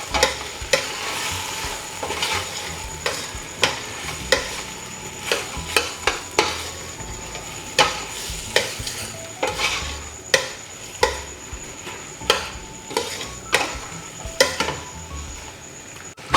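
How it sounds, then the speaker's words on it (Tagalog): Bitter gourd sautéed with egg sizzles in a frying pan as a utensil stirs it, scraping and clinking against the pan in a steady rhythm of repeated strokes, with no talking. "Then halo-haloin natin."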